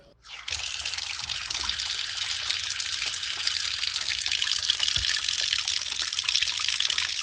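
Water gushes steadily from a just-opened tap or outlet, a continuous hissing rush that starts abruptly and stays loud and even throughout, with no talking.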